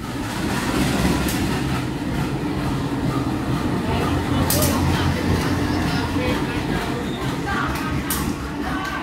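Train rumbling through a busy Jakarta railway station, a steady loud roar of rolling wagons with faint clatter and a few brief high squeals or hisses throughout.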